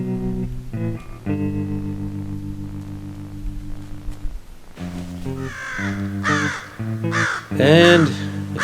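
Crows caw repeatedly around a deer carcass outdoors, their harsh calls loud and close in bursts, with a steady low hum running beneath and louder overlapping caws near the end.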